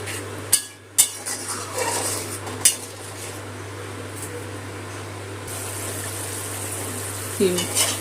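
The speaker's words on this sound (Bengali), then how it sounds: "মশলা বাটার জলটা দিয়ে ভালো করে কষিয়ে নিচ্ছি" Spice paste cooks in a pan with the spice-soaking water for a potato dum, with a few sharp clanks of a utensil against the pan, then a steady frying hiss that grows louder toward the end.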